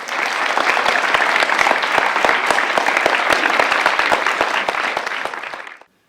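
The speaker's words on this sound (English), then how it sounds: "And a round of applause for our candidates." Audience at a school election hustings applauding the parliamentary candidates, loud sustained clapping from a sizeable crowd for about six seconds before abruptly stopping, no talk.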